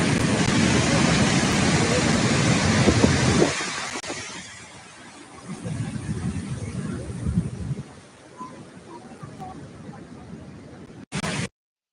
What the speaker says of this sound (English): Let's look at this waterfall and the beauty around.